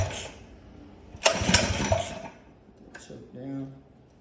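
A Predator 212 small engine with a Mikuni carburetor, choke on, is cranked and fails to start, giving a short harsh burst that dies away, then a brief voice near the end.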